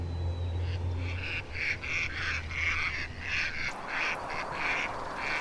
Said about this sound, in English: chaos breaks out amongst the mallards. Their calls can be heard throughout the wilderness.